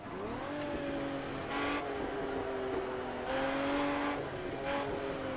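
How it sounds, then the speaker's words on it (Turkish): An Aston Martin Vantage in the racing game Project Cars, heard from the exhaust side: a steady, close engine drone that rises in pitch with each acceleration and drops at gear changes, with tire squeal in places. "Dışarı çıkınca direkt egzoz sesi."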